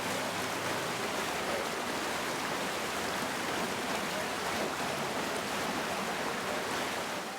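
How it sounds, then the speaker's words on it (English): Floodwater rushes through streets in Kashmir in a loud, continuous broadband roar, steady throughout with no pauses and no voices. "Cascading water flowed through the lanes and by-lanes."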